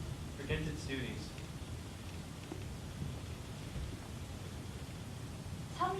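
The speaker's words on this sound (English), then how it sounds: "See how the rain pours in torrents and fiercely beats upon the hillside?" Rain pouring in torrents as a sound effect in a community theatre play, a steady even hiss throughout with brief voices breaking in near the start and end.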